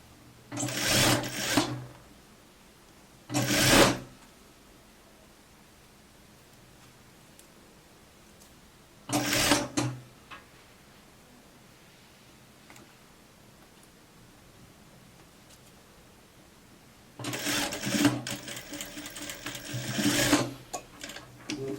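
A sewing machine stitches seams on a raglan-sleeve coat in short bursts, one around one to two seconds, another near four, another near nine and a longer run near the end, with quiet pauses between.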